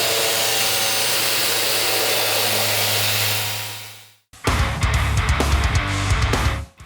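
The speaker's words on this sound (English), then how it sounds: "here we are using a wire wheel on the seam sealer" A wire wheel on a power tool stripping seam sealer from the undercarriage of a first-generation Toyota Tacoma, a loud steady whirring grind that winds down and stops, then restarts with harsher scraping bursts.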